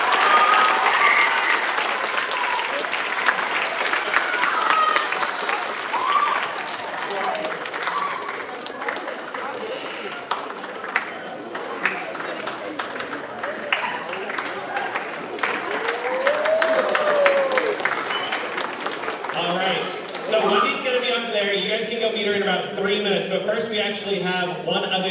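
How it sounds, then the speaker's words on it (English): Audience applause at a biomedical talk event, sustained dense clapping from a roomful of people with some cheering, running steadily for a long stretch before voices and chatter rise near the end. "But I do want us to go ahead and give Wendy a big round of applause."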